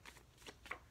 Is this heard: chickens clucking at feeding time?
no